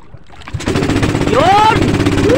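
A stalled boat engine out on rough open sea coughs and catches, then settles into a loud, close, rapid putt-putt chug that keeps running steadily, with excited voices rising over it.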